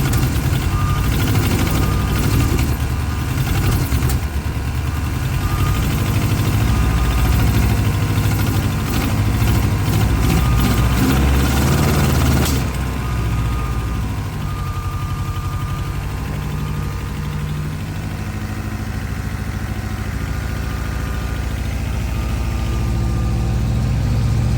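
A Volvo 240 engine, just started after several tries, runs with a loud, steady, rough idle close up that holds for about twenty-five seconds, with a faint rapid ticking over the first half.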